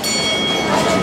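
Passenger train pulling out of a station in Hue, Vietnam, a loud close rumble and rolling wheel noise that fills the brief moment.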